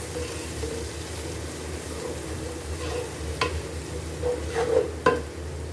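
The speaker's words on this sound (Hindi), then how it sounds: "1 चम्मच हमने लहसुन, अदरक, साबुत हल्दी और हरी मिर्ची हमने कूट लिया था, वो इसमें हम ऐड कर लेंगे और इसको भी हमने फ्राई कर लेना है।" Pounded garlic, ginger, whole turmeric and green chili paste with onion sizzles in a pan for a keema karela, a steady fry hiss broken by a few sharp stirring scrapes and clinks.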